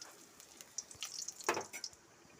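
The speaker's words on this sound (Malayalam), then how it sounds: "എണ്ണ ചൂടാട്ടുണ്ട് അതിലേക്ക് നമുക്ക് കടുക് ഇട്ട് കൊടുക്കാം വറ്റൽമുളക് ഇട്ട് കൊടുക്കാം" Mustard seeds and dried red chillies hit hot oil in a Kerala-style beef dish, giving a brief, faint crackle and sizzle with scattered little pops.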